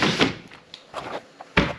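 Vehicle door being fitted and closed during a rebuild, heard as several close thuds and clunks, with a firm final slam, separated by short quiet gaps.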